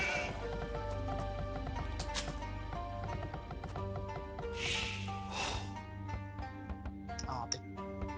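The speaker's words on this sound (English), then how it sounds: "Oh, and I did not notice these sheep here." Sheep in Age of Empires II bleat in short repeated bursts over layered game music and clip-clopping hooves, with a voice talking now and then in between.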